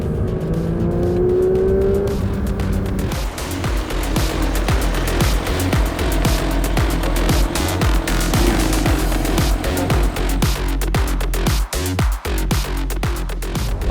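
A Porsche sports car at the Porsche World Roadshow on the Sepang track, engine roaring hard and near as it accelerates and brakes, with rapid gear shifts and pitch dropping through downshifts, continuous loud rumble throughout.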